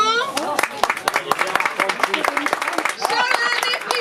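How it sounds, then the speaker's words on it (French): An audience at a French stage show claps quickly and steadily, with bright, dense claps heard close while excited voices and shouts rise over it. "Sous vos applaudissements"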